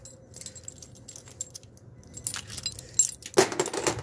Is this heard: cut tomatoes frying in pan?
no